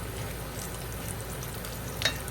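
Cumin seeds and broken dry red chilies roast in hot oil for Kashmiri dum aloo, giving a steady close sizzle with one brief sharper crackle near the end and no talking.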